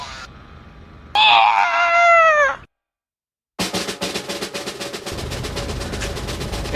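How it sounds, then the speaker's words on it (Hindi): At a Rohit Shetty film screening during a face-off scene, a loud drawn-out scream rings out, then a brief silence, followed by a dense roar of audience shouting and clapping. "इस फेस ऑफ के दौरान जनता भी उनके साथ चिल्लाती है।"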